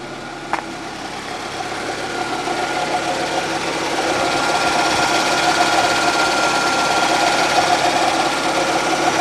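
A running 1989 Ford Escort engine idles steadily with a faint small rattle mixed in, the sound building slightly louder after a few seconds and continuing without talk.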